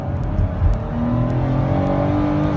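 A 2013 Chrysler Town & Country Touring minivan with a 6-speed automatic accelerates hard, its engine note rising in a steady, close, continuous drone with no talk over it.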